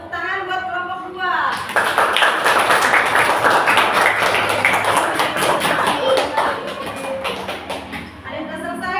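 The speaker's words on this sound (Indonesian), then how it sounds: "Tepuk tangan buat kelompok 2" A fifth-grade class claps together for a group of students, many small hands beating in a fast, steady patter for several seconds, with children's voices audible before and after.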